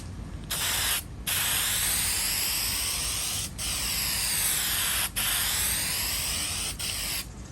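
A spray paint can hisses in long continuous bursts during a barn-find tool box makeover, loud and close, with a few brief pauses between passes.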